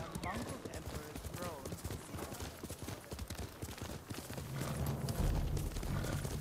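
A horse gallops in the Ghost of Tsushima video game, with steady rapid hoofbeats running throughout and game music and ambience swelling louder toward the end.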